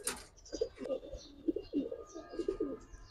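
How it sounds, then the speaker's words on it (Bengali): Giribaz and coloured pigeons coo close by in rhythmic, repeated low throaty calls, several overlapping coos across a few seconds, with faint chirps in the background and no talking. "খুব ভালো জেনারেশনের কবুতর গুলা"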